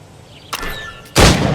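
Two loud gunshots fired at practice targets in Assassin's Creed Rogue, a sharp crack followed about half a second later by a heavier, booming blast, with no talk.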